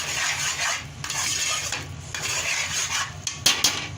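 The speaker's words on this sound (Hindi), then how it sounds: "तो थोड़ा सा भूनना है अच्छी तरह, सिर्फ 2 मिनट के लिए।" Khandvi batter being stirred and roasted in a pan, with a loud, close run of metal spoon scrapes and clinks against the pan in an uneven rhythm, no talking.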